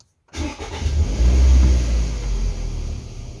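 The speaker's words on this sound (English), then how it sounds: "Now we're going to start the car." A Toyota Estima with a 2.4-litre 2AZ-FE engine cranks briefly after a moment of silence, catches and fires up, then settles into a steady, close idle rumble.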